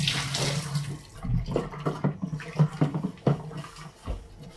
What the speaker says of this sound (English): So I'm just pouring some hot water in here to sort of help get the last of the delicious beer syrup.